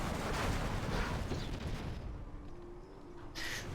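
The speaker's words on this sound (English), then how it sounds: "Nice flashbang from FreeStyler." A flashbang goes off in the real-time strategy game Command & Conquer: Generals Zero Hour, a loud, dense burst at the start that fades into a quieter rumble, with a smaller pop near the end.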